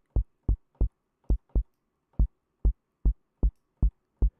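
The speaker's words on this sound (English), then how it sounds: "So now I'm going to dial in a little saturation." A Reaktor-synthesized kick drum with added saturation fires a series of a dozen deep, punchy thumps at slightly uneven spacing, heard alone and close.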